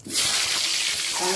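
Chopped tomato and cumin seeds hit hot oil in a pan and burst into a loud, steady hissing sizzle right up close that lasts throughout.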